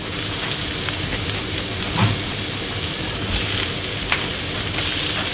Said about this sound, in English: It's time to put my chops in.